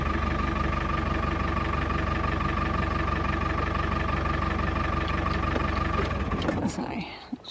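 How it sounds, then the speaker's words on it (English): Car engine idling, a steady close rumble that stops near the end as the engine is switched off. "just turn the engine off there"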